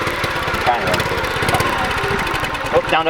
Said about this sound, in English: tilt it up and rev it a little bit